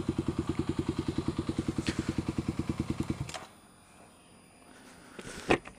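A 2014 Kawasaki KLX 250 supermoto idles with a steady, rapid thumping pulse for about three seconds, then cuts to quiet with a brief knock near the end.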